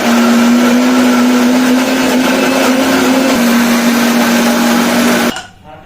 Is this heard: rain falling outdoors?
no